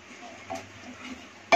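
Fish curry masala stirred and fried in a pan, a soft low sizzle with light scraping of a spoon, ending in one louder clatter against the pan.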